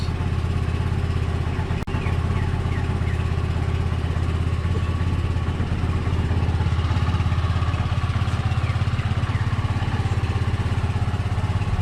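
A SYM Lance Cali Classic fuel-injected scooter engine idles steadily and close by, a low even putter that holds the same pace throughout with no revving.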